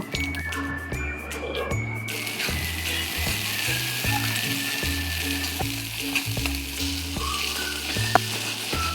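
Mashed pointed gourd paste sizzles and fries in a wok over dry red chilli and black cumin seasoning, with steady close frying noise and repeated scraping and stirring strokes throughout.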